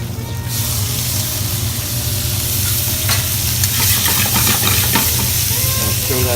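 Basil and shallots dropped into hot oil, a loud continuous frying hiss with bursts of crackling spatter and occasional stirring clatter close by.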